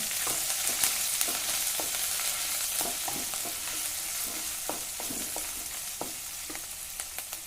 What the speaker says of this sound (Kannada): ಬೆಳ್ಳುಳ್ಳಿ ಶುಂಠಿ ಪೇಸ್ಟ್ ಹಾಕ್ಕೊಂಡೇನಿ ಇವು ಮೆಣಸಿನ್ಕಾಯಿ ಹಾಕ್ಕೊಂಡೇನಿ ಸ್ವಲ್ಪ ಹುರಿತೀನಿ